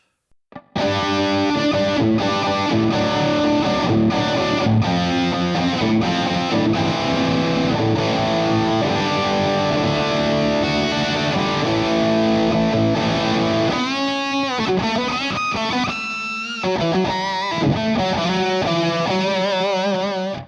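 High-gain electric guitar through a Two Notes Revolt analog preamp on the lead channel with boost engaged, gain nearly maxed, playing dense distorted riffs and sustained chords continuously with no talking.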